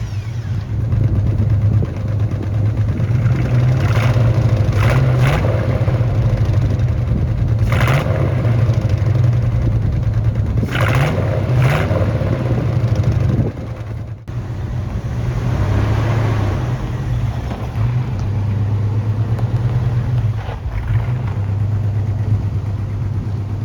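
A carbureted car engine runs steadily with a low rumble, blipped by several quick revs, briefly dips near the middle, then settles back to a rough idle, loud and close with no talking.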